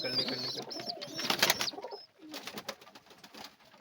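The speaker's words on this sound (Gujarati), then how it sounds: "આ આપણું રેસર કબૂતર છે." Racer pigeons cooing inside their loft, several birds calling close by in overlapping bursts with rustling and a brief quieter gap midway.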